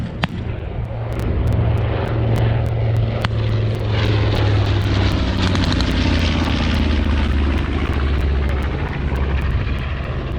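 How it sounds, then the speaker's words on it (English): A North American B-25 bomber roars past at a World War 2 reenactment, its loud propeller engine drone swelling and shifting pitch as it passes close overhead, with sharp pops and cracks scattered through it. "Here comes another B-25, Rob."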